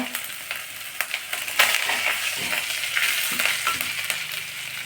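Green chili and curry leaves frying in oil in a pan, a steady close crackling sizzle with scattered sharper pops throughout.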